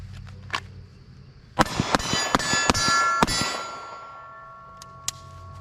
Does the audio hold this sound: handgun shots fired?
yes